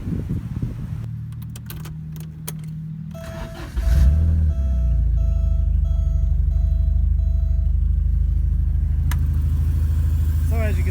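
A 1987 Porsche 924S engine cranks, fires and settles into a steady idle, preceded by clicks and a whirring electric motor, then running continuously and loud up close while someone talks.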